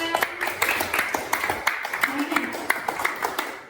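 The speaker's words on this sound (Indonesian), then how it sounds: "Oke, boleh kasih tepuk tangan buat Bintang" A classroom of students gives a short round of applause for a presenting group, scattered uneven claps close by with light chatter underneath.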